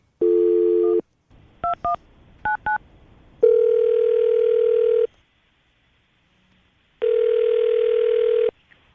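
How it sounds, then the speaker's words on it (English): A telephone line plays a short tone, then quick dialing beeps, followed by two long ringback tones separated by silence. "Get her on the phone right now."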